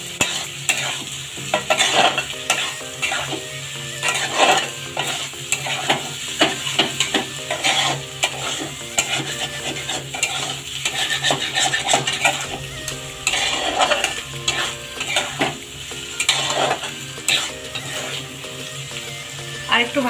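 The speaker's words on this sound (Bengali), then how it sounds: "ডিমটা আমি এবার আলু পটলের মধ্যে দিয়ে দেবো। ভালো করে নাড়তে হবে।" Beaten egg is stirred into potato and pointed gourd (parwal) frying in a pan. Quick repeated scraping and clinking strokes of a spatula sound loudly over a constant sizzle.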